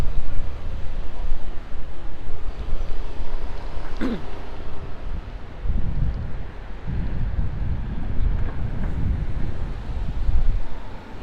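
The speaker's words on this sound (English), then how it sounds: "It's a very windy day. It's probably about 20 to 30 mile an hour winds right now." Strong gusty wind roaring across a microphone on a New York City street, a steady low rumble with heavier buffeting swells, no voices.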